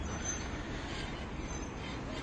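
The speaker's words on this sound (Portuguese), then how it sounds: "Esse viaduto aqui, pessoal, é o que passa o trem." A train crossing a railway viaduct in Redondela, Spain, a steady rumbling roll with faint squeal, continuous and fairly close for the whole stretch, with no talk over it.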